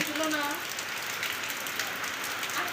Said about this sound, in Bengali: কি বৃষ্টি রে বাবা, কত বৃষ্টি হচ্ছে